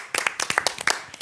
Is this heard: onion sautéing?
no